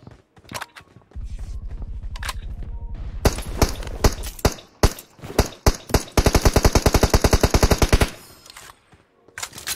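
Gunfire in a mobile battle royale shooter game, with single loud shots, a long rapid automatic burst, then another sustained rattling burst, close and punchy, broken by short pauses.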